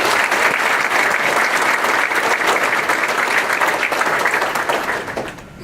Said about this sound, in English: Let's give Wendy a big round of applause